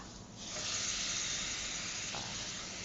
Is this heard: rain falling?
no